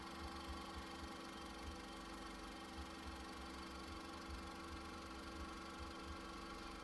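A 2001 Honda Civic EX engine idles smoothly and quietly with a steady, even hum and faint mechanical ticking, continuous with no voices.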